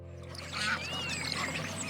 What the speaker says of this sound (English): A duck.